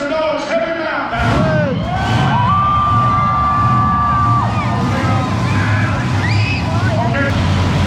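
Crowd in the stands at a monster truck show in Mercedes, Texas, whoops and cheers loudly and steadily under heavy engine noise, with a voice shouting over the din.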